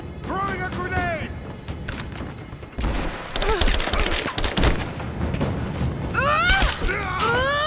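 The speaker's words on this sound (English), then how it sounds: "Get clear! Throwing a grenade!" A grenade blast in Rise of the Tomb Raider: a sudden heavy burst of noise with loud booming and crackling gunfire-like detonations after a stretch of quieter game sound, with voiced game dialogue and chirping effects around it.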